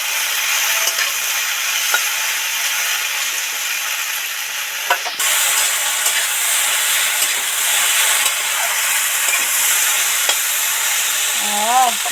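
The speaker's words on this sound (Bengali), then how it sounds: "ঢেঁড়স আলু টমেটোটা মোটামুটি ভাজা ভাজা কমপ্লিট হয়ে এসছে" Okra, potato and tomato fry in hot oil with a loud, continuous sizzle and hiss, with occasional stirring scrapes and faint clinks close by.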